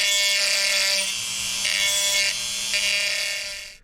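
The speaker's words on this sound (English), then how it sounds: "I use this all-in-one tool, like a Dremel, and I will just rough this up a little bit." A small handheld rotary tool grinds ridges into a tripod mount, a steady high-pitched abrasive whir close by that rises and dips in several short passes over a few seconds.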